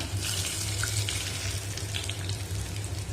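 Water goes into a pan of browned shallots and masala for a vegetable-free curry, giving a steady hiss and sizzle with a faint trickle, loud and close, with no talking.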